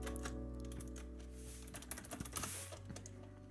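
Quick, quiet clicks of computer keyboard typing, a short burst of keystrokes in an uneven rhythm over a low steady electrical hum.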